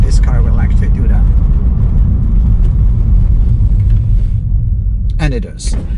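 A BMW Z3 on a test drive brakes from speed, heavy low road and engine rumble steady and loud, easing toward the end, with a brief voice near the close.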